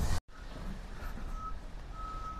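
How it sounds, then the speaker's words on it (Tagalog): A reversing truck beeps in a steady high tone among passing vehicles on a busy street, the beeping fairly close and repeating over a constant traffic rumble. "Although madami din dumadaan na sasakyan."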